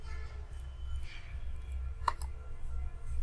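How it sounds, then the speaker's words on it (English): Keys pressed on a computer keyboard while entering a root user password, a few soft scattered clicks with one sharper tap, faint and close over a low steady hum. "now type root user password"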